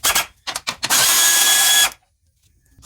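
Quick ratcheting on a 10 millimeter bolt during radiator work on a 2004-2006 Lexus RX330: a few short clicks, then a dense one-second burst of rapid ratchet spinning, close and loud, followed by near silence.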